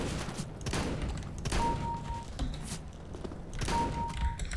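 Gunfire from a weapon in CS:GO, several bursts of shots in a match, fairly loud, spread across the moment with brief pauses between volleys.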